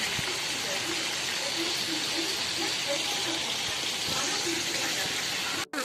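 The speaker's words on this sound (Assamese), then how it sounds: "মাংস ভাজিয়ে আছে" Chicken pieces frying in a pan for an Assamese chicken dish, a steady broadband hiss and sizzle running throughout at close range, with faint voices and clatter underneath and a brief dropout near the end.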